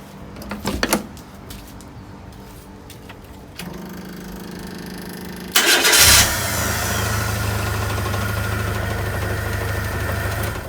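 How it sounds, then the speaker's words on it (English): A car engine cranks briefly, then catches and settles into a steady, close idle that hums on to the end. "Hopefully it will start now, so let's try it out."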